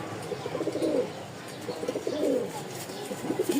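Rajshahi stone-eyed pigeons coo close by in a few soft, throaty bursts with short pauses between them, and light chirps and rustling sound in the background.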